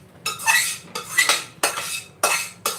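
Four firm scraping strokes of a utensil drag ghee off the inside of a cooking vessel used for carrot halwa with jaggery; each rasping sweep lasts about half a second, with short pauses between, loud and near.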